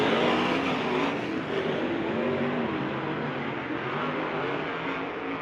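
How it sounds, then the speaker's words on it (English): A Toyota TRD pace truck drives a dirt race track at a sprint car event, its engine droning steadily and fairly loud amid a broad roar of surrounding engines and track noise. "Toyota TRD Pace Truck out on the track, getting things lined up back behind."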